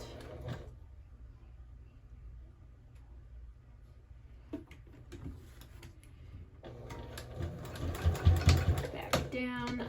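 A sewing machine back-stitches along a bag strap, its quick mechanical ticking running steadily at close range, then growing louder and busier toward the end.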